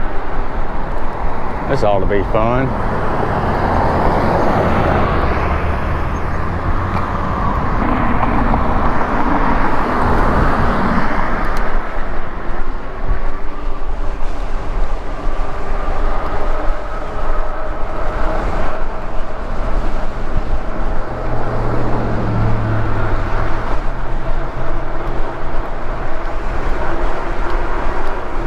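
Cars pass steadily near an interstate road, heard from an e-bike, with a constant rush of traffic and heavy wind buffeting the microphone while a rider talks over it.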